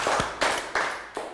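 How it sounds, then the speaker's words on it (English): A few people in a Year 3 maths class clap in about four distinct, evenly spaced slow claps, close and clear with no talk. "Round of applause."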